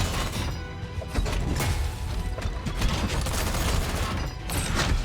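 Gunfire from AI-controlled mech units in the video game Mecharashi, a dense, continuous barrage of rattling shots and crashing impacts that stays loud and busy throughout.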